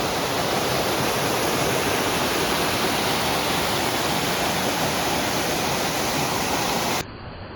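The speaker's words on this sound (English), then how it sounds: "it's still a pretty cool waterfall" Waterfall at Dividend Pond in Rocky Hill, Connecticut, a loud, steady rushing roar of falling water heard up close, unbroken until it cuts out abruptly near the end.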